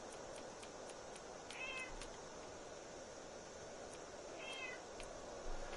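In a modded Skyrim game, a cat gives two short meows a few seconds apart over a steady, hissy ambient background, with no one talking.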